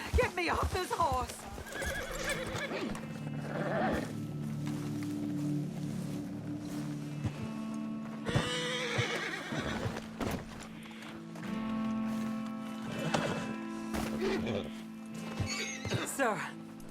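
A horse in Red Dead Redemption 2 neighs loudly and snorts amid clip-clopping hooves, with people talking over the animal throughout and a few more whinnies near the end.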